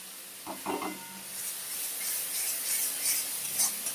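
Salt, turmeric and Kashmiri chili powder fry in a pan for egg curry, making a steady bright sizzle and hiss that builds and holds after a short murmur and clatter at the start.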